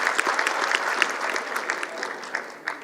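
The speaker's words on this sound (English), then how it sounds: "Give him a round of applause." Graduation audience at a college convocation in Toronto breaks into steady applause, a dense wash of many hands clapping with scattered louder claps, fading slightly toward the end.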